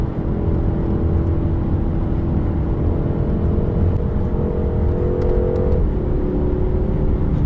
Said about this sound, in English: A true beast awakens in that engine bay.